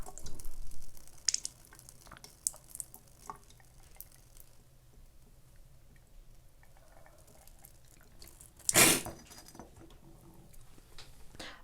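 Water from a neti pot pours through a nose, a quiet trickle with scattered drips and splashes, one louder splashing burst near the end.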